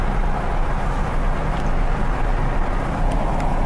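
An old car drives along, its engine and road roar forming a loud, steady broadband rumble inside the cabin, with no clear breaks.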